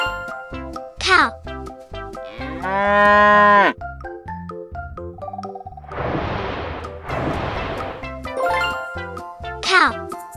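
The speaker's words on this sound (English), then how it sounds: "Cow." Cow moos in a children's farm-animal learning sequence, a couple of drawn-out lowing calls set among bright musical jingles and chimes rather than heard alone.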